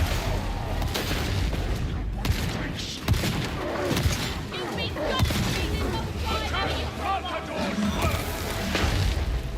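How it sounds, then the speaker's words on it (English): An explosion detonates in the Warhammer 40k: Darktide game, heavy booms and gunfire-like blasts crashing over a busy, loud battle mix with a voice speaking. "Detonating!"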